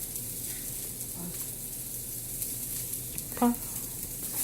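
Rice toasting with onion in a pan for Mexican rice gives a steady, soft sizzle close by, with a brief stir or clink near the end.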